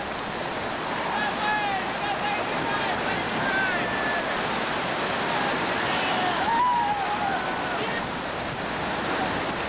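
Steady roar of rushing whitewater rapids on a rafting trip that fills the whole stretch, broad and constant, with faint whistles or calls rising above it now and then.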